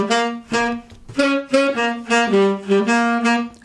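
Blues riff played as a loud, close horn-like melodic line of sustained and bending notes with short gaps between phrases.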